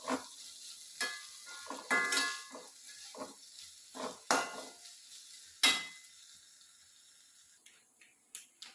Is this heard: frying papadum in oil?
yes